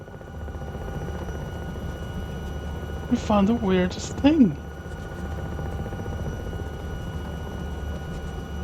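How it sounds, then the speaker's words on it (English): An Alouette III helicopter flying over north-west Ireland gives a steady, droning rotor and engine hum throughout, with people talking over it briefly. "I can stabilize this helicopter long enough."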